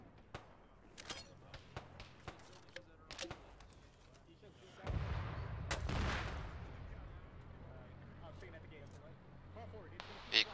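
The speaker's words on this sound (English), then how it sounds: "We're getting shelled from the north-northeast." Artillery shelling in the military game Arma, with sharp distant gunshot cracks scattered throughout and a heavy, rumbling shell impact near the middle that slowly fades. Voices talk over the action.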